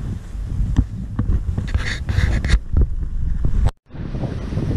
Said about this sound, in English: It's a little windy out here this weekend